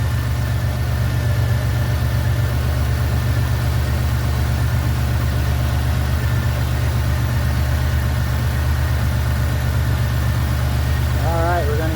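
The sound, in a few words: 1991 Buick LeSabre engine idling, AC compressor kicking on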